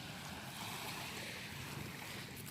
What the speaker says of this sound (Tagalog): Malinis ang tabing dagat namin dito.